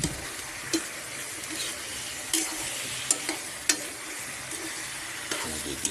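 Native chicken sautéing in its own fat with papaya in a pan, a constant close sizzle broken every second or so by sharp clinks of a spatula as it stirs.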